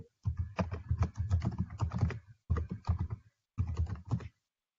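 Rapid clatter of keys on a computer keyboard as a short file name is typed into a save dialog, coming in three quick bursts with brief pauses between them, close and clear with no talking.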